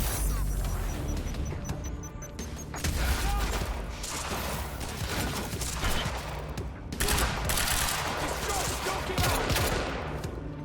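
Rapid gunfire from the video game Quantum Break, sustained bursts of automatic shots and impacts with crashing debris, loud and dense across the whole stretch.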